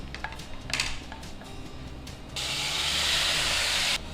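An ingredient is dropped into a hot ghee tempering (oggarane) for avalakki khara pongal, producing a loud, hissing sizzle that lasts about a second and a half after a few light utensil clinks.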